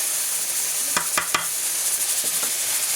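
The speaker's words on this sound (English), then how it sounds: "Mix well and let it fry till it becomes dry." Lamb brain masala fries with garam masala in a pan, giving a close, steady sizzle broken by a few quick scraping stirs near the start and fainter ones later.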